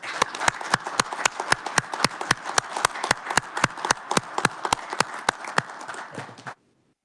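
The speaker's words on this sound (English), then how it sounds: "let's give her a round of applause" Round of applause for a senator in a state committee room: a steady run of sharp, evenly spaced claps at moderate distance, fairly quiet, continuing for several seconds before stopping abruptly.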